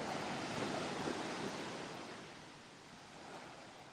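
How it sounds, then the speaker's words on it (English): Sea waves wash onto a beach in a soft, continuous hiss that swells slightly near the start and then eases, with some wind mixed in. "I'm just going to let you listen to the sea for a moment."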